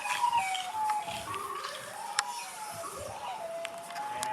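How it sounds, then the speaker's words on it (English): A Siren Head ringtone plays from a phone, giving a wavering, siren-like wail with eerie high tones at steady loudness, with scattered sharp clicks over it. "There's my Siren Head ringtone."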